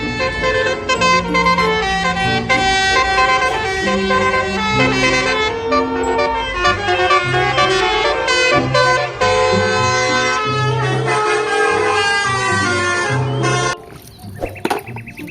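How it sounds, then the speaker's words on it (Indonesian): Toy bus with a telolet horn playing a loud, bright musical melody of tooting horn notes that runs almost continuously, then stops abruptly near the end, close and alone. "Wih, ada mobil bus"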